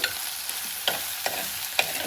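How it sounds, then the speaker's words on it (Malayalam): Spoon scrapes and stirs brinjal and onion frying in a pan for a spicy Kerala theeyal curry, with a soft steady sizzle and several sharp clinks against the pan, no voices. "നമുക്കിത് തുറന്ന് നോക്കി ഇളക്കി കൊടുക്കണേ,"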